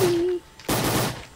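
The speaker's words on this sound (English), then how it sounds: "They're shooting me." Gunfire in the Roblox Island Royale video game: a dense burst of rapid game gunshots erupts after a brief steady tone, continuing loudly to the end.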